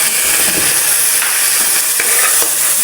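Soy sauce hits a hot frying pan of golden-browned food, setting off a loud, continuous sizzle and hiss that fills the whole moment.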